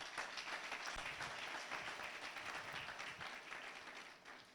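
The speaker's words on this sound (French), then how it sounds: "Tu peux acclamer la parole de Dieu." A church congregation breaks into sustained applause, a dense wash of clapping hands that holds steady and then tapers off slightly toward the end.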